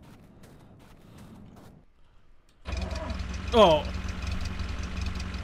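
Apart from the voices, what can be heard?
bus engine starting and idling in The Long Drive video game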